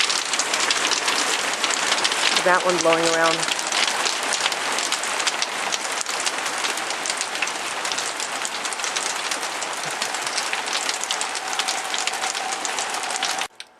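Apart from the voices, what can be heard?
heavy rain falling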